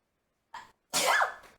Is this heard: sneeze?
yes